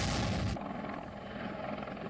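A Russian Mi-28 attack helicopter in flight during the Russia-Ukraine war produces a loud, continuous rotor and engine roar that drops slightly after a brief burst at the start, with no voices.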